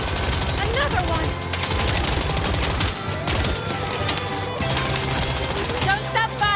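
Rapid bursts of automatic gunfire aimed at a vehicle's tires in the anime-style action video game Ananta, loud and continuous throughout with dense layered shots, game music and effects underneath.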